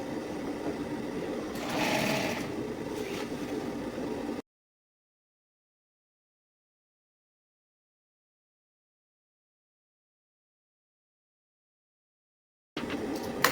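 A straight-stitch sewing machine runs a French seam on a satin robe, a brief close whirring burst of stitching that gives way to a long stretch of complete silence before a short final moment of sound.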